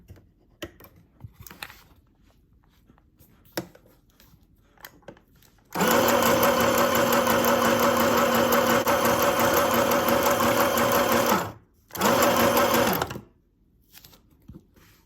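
A portable sewing machine stitches a narrow zigzag, its motor whirring loudly and steadily for about six seconds, pausing briefly, then running again for a short burst, after a stretch of quiet handling clicks.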